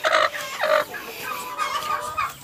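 Turkey hens, brooding layers kept alongside chickens, give several loud, close gobbling calls in quick bursts, one after another with short pauses between.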